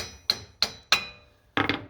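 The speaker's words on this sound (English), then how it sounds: "Maybe give it a tap with a hammer." A hammer taps a seized Subaru axle shaft: three sharp, evenly spaced metallic strikes, then a quick double strike, close and crisp with brief ringing decay.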